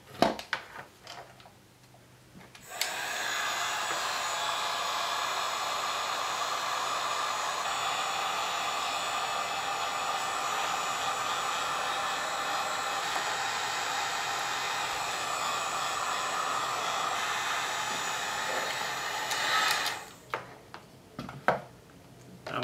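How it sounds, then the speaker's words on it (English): A heat gun shrink wrapping a Christmas ornament blows with a loud, steady airy roar for about seventeen seconds, then cuts off, with light handling clicks before and after. "We're going to need a heat gun."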